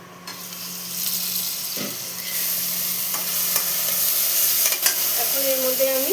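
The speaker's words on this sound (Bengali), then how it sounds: "পেঁয়াজটা ভালো মতো ভেজে নেব।" Onion paste frying in oil for a fish curry, a loud, close, steady hiss with occasional stirring scrapes and a brief tonal squeak near the end.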